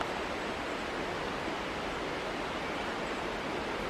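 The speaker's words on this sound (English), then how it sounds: "The sound you hear in the background would be beautiful birds and a waterfall." A waterfall in a green Northwest Montana forest gives a steady, even rush of falling water, constant and fairly soft throughout; no birds stand out above the roar.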